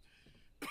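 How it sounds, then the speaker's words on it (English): A character in the Red Dead Redemption 2 game coughs once, a short harsh burst arriving at the end after faint low murmuring and quiet background. "this guy's really coughing up a storm"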